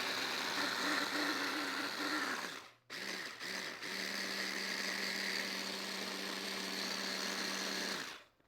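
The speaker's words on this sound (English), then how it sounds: "You'll have to excuse my washing machine. It's going in the background" A home washing machine runs steadily in the background with a constant hum and whir, briefly cutting out and restarting before stopping near the end; no one speaks.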